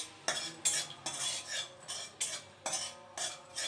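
Spices with red chili powder being stirred in hot oil in a pan for a Bengali drumstick mustard curry, a metal spoon scraping and clinking in sharp repeated strokes about every half second, close and alone.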